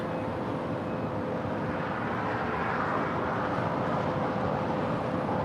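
A British Airways A350-1000 airliner near LAX gives a steady, broad engine roar that holds at a constant level throughout with no voices.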